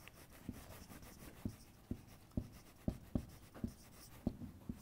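Writing strokes scrape across a board in an uneven series of short, scratchy marks. The sound is faint but close, with no talking.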